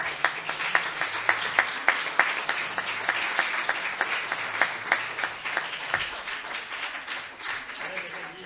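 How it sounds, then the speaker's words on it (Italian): An audience applauds Donato Grande at an Oltre le barriere talk, a dense, steady wash of many clapping hands lasting throughout, with sharper individual claps popping out now and then. "io farei un applauso a Donato"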